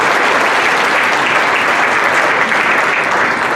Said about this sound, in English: We can do a big round of applause